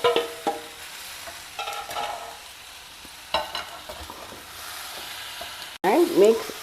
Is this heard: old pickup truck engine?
no